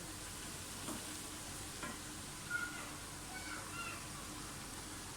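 Onions frying in oil for mutton biryani, a soft continuous sizzle with a few faint stirring knocks, low and steady under light background noise.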